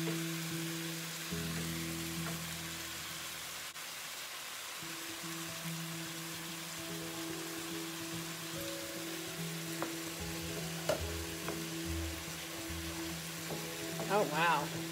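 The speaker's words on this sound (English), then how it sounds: "Look at that egg cooking." Egg fries in a hot pan for shrimp fried rice, a steady soft sizzle with occasional light scraping and clinks toward the end, heard at a low level throughout.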